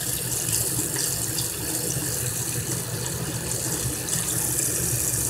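Tap water runs steadily into a sink as an eye makeup brush is rinsed, a continuous close gushing splash with no voices.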